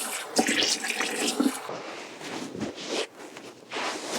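Water splashes and patters in short bursts as a face is rinsed after a gentle cleanser, close and fairly quiet, with brief pauses between the splashes.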